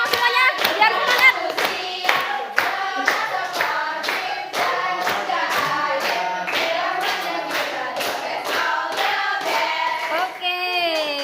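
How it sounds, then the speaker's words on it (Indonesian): A class claps along in a steady, even beat during a group chant, the hands loud and close, with singing voices mixed in over the rhythm. "Ayo, bisa ikut tepuk tangan semuanya, biar semangat"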